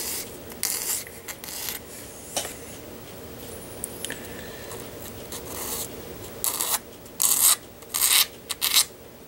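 Hand file smoothing the edge of a scratchbuilt model part, intermittent rasping strokes up close, bursts growing louder toward the end, no talking.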